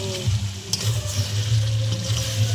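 Chicken for a Bengali begum-style curry sizzles steadily in an uncovered pan, a continuous close frying hiss with small crackles and a brief stir, no voices present.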